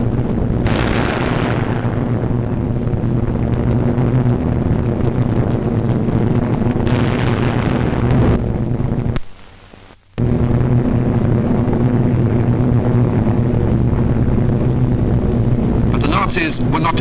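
A 1944 wartime newsreel soundtrack carries a dense, continuous roar of WWII aircraft and bombing explosions, loud and rumbling, with a couple of surging blasts, a brief dropout near the middle, and a narrator speaking over it.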